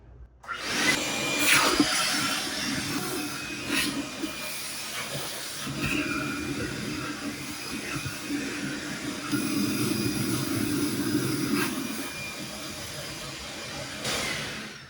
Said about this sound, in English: Our disposer is running, so we'll turn it on again.